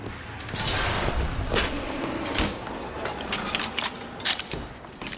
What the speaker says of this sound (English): I may as well just use the volley gun.